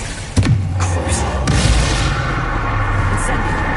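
Bombarda blasting spell explosions in the video game Hogwarts Legacy: a sudden loud boom followed by a sustained rumbling, crackling roar with a second burst partway through, dense game effects throughout.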